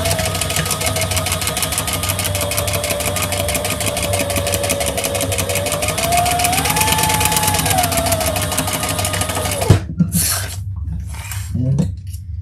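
An industrial sewing machine top stitching leather or vinyl runs steadily and loudly in a continuous mechanical whir with a rapid, even stitching rhythm, speeding up briefly before stopping abruptly, followed by a few soft handling sounds.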